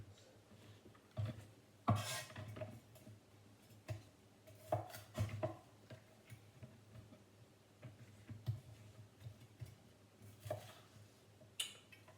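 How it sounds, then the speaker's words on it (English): A knife cuts the ends off lined-up vegetables on a board: a few quiet, irregular taps and chops spaced seconds apart, faint and close, with no talk. "Flip them around, line them up, cut the ends."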